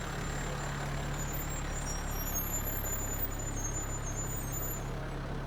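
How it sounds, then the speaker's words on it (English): Fire truck engine idling and rolling past in a St. Patrick's Day parade, a steady low rumble with a faint high whine above it, continuous and fairly close. "driving the Verplank fire truck."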